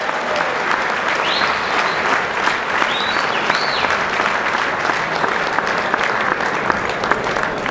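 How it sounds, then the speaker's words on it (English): An audience at a martial arts Grandmaster award event claps continuously and loudly, a dense steady wash of applause, with a few faint whoops rising above it. "Big round of applause, everybody"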